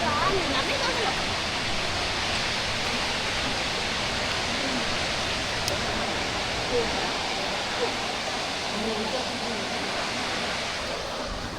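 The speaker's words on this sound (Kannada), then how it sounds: "ನೀರು ಸ್ವಲ್ಪ ಕಮ್ಮಿನೇ ಇದೆ, ಯಾಕೆಂತ ಹೇಳಿದ್ರೆ ಮಳೆ ಕಮ್ಮಿ ಇರೋದ್ರಿಂದ ನೀರು ಕೂಡ ಕಮ್ಮಿ ಇದೆ" Mallali waterfall in Karnataka flows with reduced water after scant rain, heard from the trek path partway down. A steady, broadband rushing roar fills the whole stretch evenly without letup.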